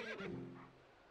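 A short whinny from the video game horse Epona in The Legend of Zelda: Twilight Princess, with a falling, wavering pitch, fairly close and clear, fading out quickly within about a second.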